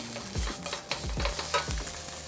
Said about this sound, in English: to this pan, I'm gonna go ahead and add my miso paste.